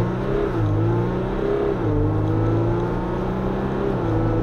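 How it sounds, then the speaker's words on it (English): A 2020 Jeep Wrangler EcoDiesel pulls hard through a 0 to 60 run, its diesel engine droning loudly and steadily from inside the cabin, pitch climbing through the gears with brief dips at each shift. "Let's do a 0 to 60 run and see how it feels."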